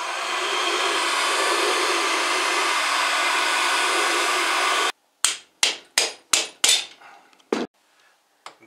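A hair dryer blows hot air onto a plastic gear of an Optimum/Quantum milling machine, a loud steady whoosh for about five seconds that cuts off, followed by a quick series of sharp metallic taps or clicks.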